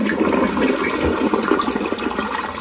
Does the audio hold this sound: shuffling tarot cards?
no